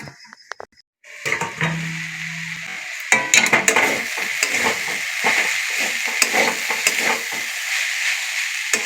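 Chopped vegetables fry in a pan for cabbage rolls, a steady close sizzle broken by scraping stirs and clinks of a utensil against the pan, starting after a quiet second with a brief hum and continuing to the end.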